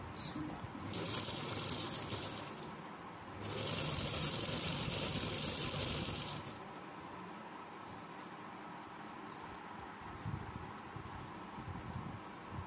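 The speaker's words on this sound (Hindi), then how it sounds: "पहला एक पैर का वक्फा रखते हुए हम इस पिंटेक्स की सिलाई को स्टिच कर लेंगे" Sewing machine stitching pintucks into fabric for a poncho, in two steady mechanical runs of a couple of seconds each with a quieter pause between, then a low background hum.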